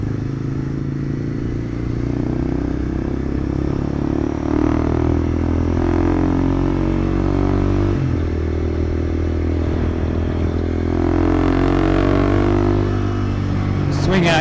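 A Kawasaki Z125 Pro motorcycle rides down the road with a continuous buzzing engine drone, wind rush and light rattling as the rider speaks over the riding noise.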